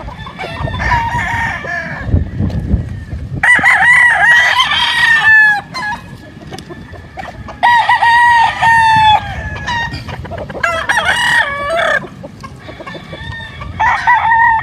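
Roosters crow loudly and repeatedly at close range, several long cock-a-doodle-doos overlapping with clucking hens in between.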